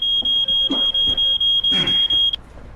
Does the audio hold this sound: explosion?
no